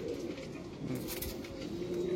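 A pigeon cooing close by, soft low repeated coos in a steady rhythm against a quiet background.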